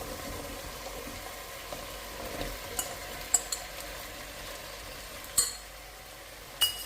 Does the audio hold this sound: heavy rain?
no